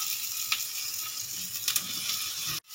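Potatoes stirred into hot spiced oil for a jackfruit and prawn curry, a steady close sizzle with a few sharp spoon clicks, cutting off abruptly near the end.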